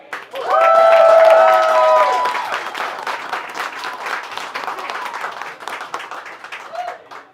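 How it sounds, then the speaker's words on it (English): Crowd applause at an election night event, loud clapping and cheering that starts abruptly and peaks early, then gradually thins out into scattered claps and murmurs. "I need you to give a huge, huge round of applause to Jade Malanga"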